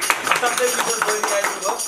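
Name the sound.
audience applause at live dohori program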